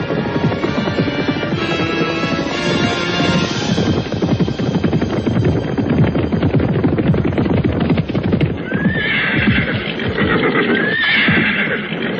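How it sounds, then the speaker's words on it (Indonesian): Riding horses neighing loudly and near, with a throbbing rumble and hooves clip-clopping beneath, one continuous dense stretch with a couple of rising whinnies toward the end. "memberi kesempatan kepada kuda-kuda tunggangan mereka merumput dan minum"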